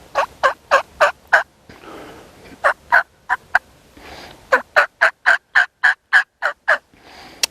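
A voice imitates a turkey hen's calling with a steady series of short yelps in two bursts, rising and falling slightly in pitch, close and fairly loud.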